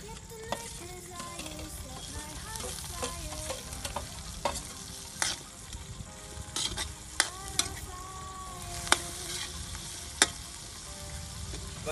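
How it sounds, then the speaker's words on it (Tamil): Onions and tomatoes fry in a pan while black chicken is cooked. A soft continuous sizzle runs under scattered scraping clicks from stirring, close and fairly quiet, with no talking. "வெங்காயம் தக்காளி நல்லா வதங்கிடுச்சு."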